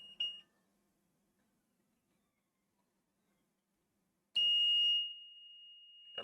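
A multimeter on continuity mode gives two short, clear electronic beeps while probing a damaged Nintendo Switch board, the second held for about a second before stopping, with near silence between them.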